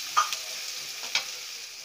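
Vegetables sautéing in a pan for fish fried rice give a soft, steady sizzle with a couple of brief stirring scrapes, close and fairly quiet, with no talk.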